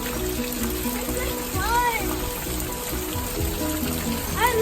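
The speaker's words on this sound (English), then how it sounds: "I'm getting wet because it's pouring a lot" Heavy pouring rain on a cold day, a continuous wet hiss with splashing close by, while children's voices chatter and squeal over it.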